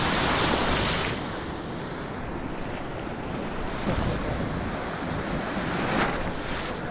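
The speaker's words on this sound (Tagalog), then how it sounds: "Medyo malalakas na alon ngayon." Strong ocean surf roars steadily on Bagaspas Beach in the Philippines, a fine-sand beach, swelling as waves break around the middle and near the end, with wind rushing across the microphone.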